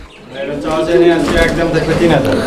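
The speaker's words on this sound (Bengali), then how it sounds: "একদম নতুন কবুতর নিউ অ্যাডাল্ট পেয়ার" A newly paired adult couple of fancy pigeons cooing up close, soft repeated throaty coos mixed with talk from people nearby at a pigeon sale.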